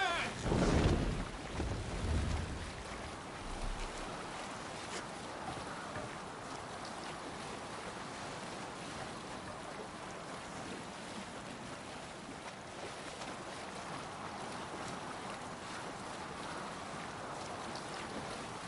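A Viking longship under sail across open water in Assassin's Creed Valhalla, a steady wash of waves, wind and hull noise running evenly throughout, with a louder splash or creak near the start.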